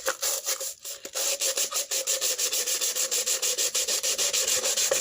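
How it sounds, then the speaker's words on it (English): Sandpaper rubbed back and forth over a painted buckle, a steady run of close, even abrasive strokes, roughly two or three per second, with a few irregular scrapes at the start and no talking. "Sandpaper, put some abrasion on the buckle."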